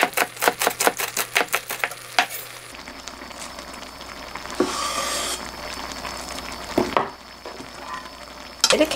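A spoon stirs soybean paste stew with green chili peppers in a pan, starting with a quick run of sharp rhythmic taps, then giving way to a steady sizzling bubble with occasional scraping, close and fairly loud.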